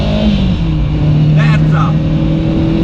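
Lancia Stratos rally car engine pulls loud and steady from inside the cabin as it accelerates through first, second and third gear, with a brief rising whine midway and a voice speaking over it.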